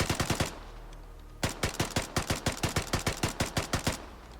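Thompson submachine gun in the video game Vigor firing: a quick burst of about six shots, a pause, then a longer steady string of about fourteen evenly spaced loud reports.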